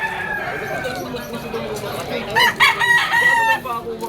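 A rooster crows at a busy gamefowl market in Malabon, its call rising partway through over a steady crowd murmur and nearby talk.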